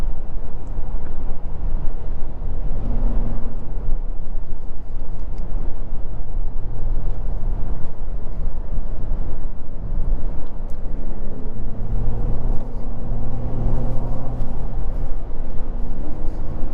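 A 2024 Mazda CX-90 Turbo Premium Plus driving, its turbo engine a steady, smooth drone heard from inside the cabin, with road and wind noise blended into a constant low hum.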